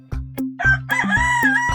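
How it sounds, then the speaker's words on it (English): A rooster crows once, loud and close, with a few sharp clucking notes leading into a drawn-out cock-a-doodle-doo, with no talking over it. "Cock."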